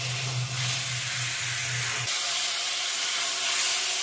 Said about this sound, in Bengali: ভালো করে ভেজে নেব চিকেনটাকে